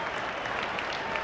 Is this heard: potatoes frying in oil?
no